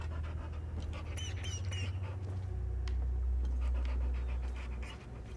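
A dog pants in the video game Hell Is Us, quick rhythmic breaths close and clear, accompanied by faint bird-like chirps and a deep rumbling ambience that swells toward the end.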